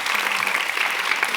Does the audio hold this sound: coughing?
no